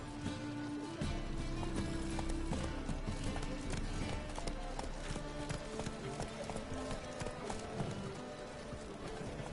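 A horse gallops with steady, rapid clip-clop hoofbeats in Witcher 3, the rhythm continuous and close, with faint ambient game sounds and a brief voice underneath.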